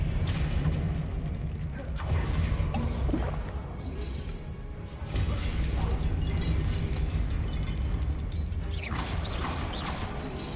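Spells crackle and burst in Hogwarts Legacy, with magical whooshes, a blast and clanking mechanisms under a dense, loud layer of game sound and no voices.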